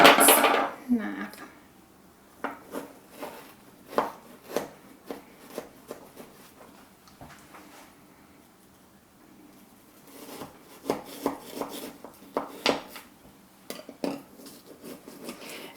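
A knife cuts through frozen fruit salad on a plate, producing scattered scraping and clinking taps of metal on crockery in irregular bursts, with a loud clatter at the start and quieter gaps between.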